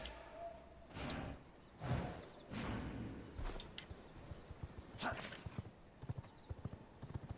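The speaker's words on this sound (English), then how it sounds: "And the horse is still waiting for me." In the vampire survival game V Rising, a horse's hooves clip-clop in an uneven run of footfalls, with a soft whinny and a few scattered thuds, all heard quietly.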